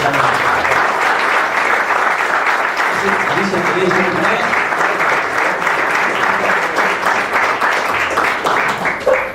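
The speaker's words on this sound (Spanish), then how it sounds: "nuevamente un fuerte aplauso para ti" Sustained, loud audience applause fills the room at a talk, dense clapping continuing steadily from start to finish with a faint voice underneath.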